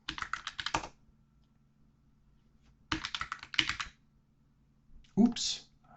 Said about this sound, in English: we can just switch user root and we can type our password.